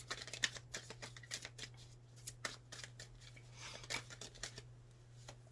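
Tarot cards being laid out on a table, a quiet series of soft, crisp slaps and slides repeating irregularly, close by against a low steady hum.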